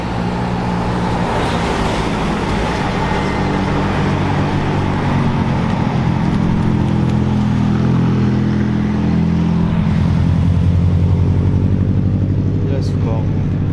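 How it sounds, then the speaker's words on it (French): A McLaren supercar and a Subaru arriving on a mountain road at a Chamrousse car event, their engines a loud, continuous close-up roar that rises and holds, with people talking over the noise. "Ah ça arrive, on a une McLaren, une Subaru."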